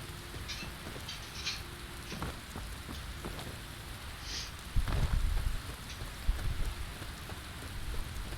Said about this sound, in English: Oh, of course, the rain.